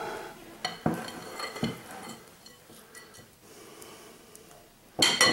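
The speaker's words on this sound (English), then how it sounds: "I'm going to scrape down the sides here real quick." A spatula scrapes down the sides of a mixing bowl in a kitchen, a few quiet scraping strokes and light clinks of utensil on the bowl, ending in a louder clatter.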